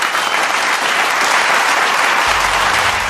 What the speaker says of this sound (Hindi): पूरा सभागार तालियों की गड़गड़ाहट से गूंज उठा